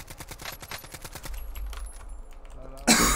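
Rapid bursts of automatic gunfire in Call of Duty Warzone, a quick train of sharp repeated shots that thins out into scattered distant firing, then a sudden loud rushing blast at the end.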